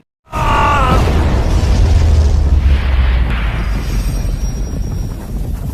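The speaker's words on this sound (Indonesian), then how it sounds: "Sebuah ledakan besar dan teknik tingkat tinggi terlihat saat di sini." A huge blast booms in an animated Chinese donghua fight scene from Battle Through the Heavens, a loud sudden explosion that swells into a long roaring rumble and slowly trails off, with a brief tonal cry at its onset.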